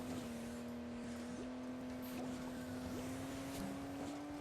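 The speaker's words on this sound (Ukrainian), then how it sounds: "Двигунчик чуєте, як реве." A steady truck engine drone from the game Hill Climb Racing 2 holds one pitch with brief revving shifts, continuous and fairly loud, no one talking.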